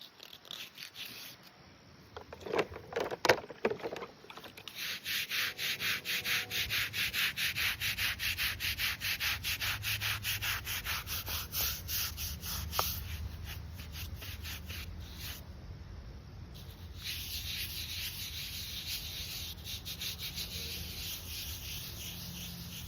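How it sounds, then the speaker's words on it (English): Steady scrubbing and scraping on a stone headstone while dirt is cleaned off, a loud continuous rasping rub with brief pauses, close to the listener and with no talk. "I probably could try to scrape a little more off on this side maybe"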